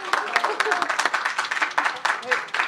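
An audience at a graduation ceremony claps in an uneven patter of hands, with voices talking over it.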